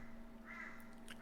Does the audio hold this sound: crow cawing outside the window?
yes